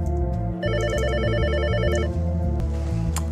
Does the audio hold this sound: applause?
no